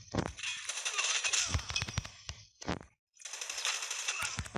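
An HVK-30 assault rifle firing in Call of Duty Mobile: two long, loud sustained automatic bursts, separated by a few single shots and a short silent gap.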